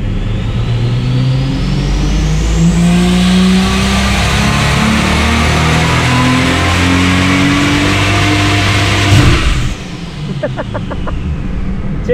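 A Ford Barra turbo engine on a hub dyno pulling hard toward 6,000 rpm, a loud close roar with rising pitch and turbo whine, then an abrupt drop off throttle with popping and crackling afterward.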